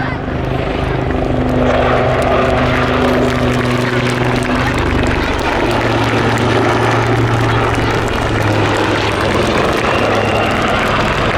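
A Royal Navy AgustaWestland Wildcat HMA.2 helicopter makes its final display pass at the Cosford Air Show, its loud, throbbing rotor and turbine roar steady and close throughout.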